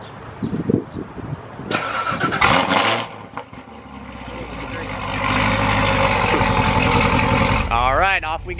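A Lamborghini engine cranks and fires up with a sharp roar, then settles into a loud, deep, steady idle close by, while people talk and react over the start.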